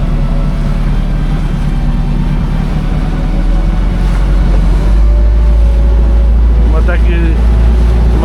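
An outboard motor on a small boat runs steadily on the Danube; it is a fresh engine, just started for the first time, that tends to stall at low revs. The hum stays loud and continuous with wind and water, and a voice speaks briefly.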